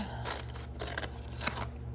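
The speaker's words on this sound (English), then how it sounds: "I'm going to take my scissors and I'm going to cut" Scissors cut through paper for a pop-up stacked presents card in a few quick, close snips, crisp but soft against a quiet background.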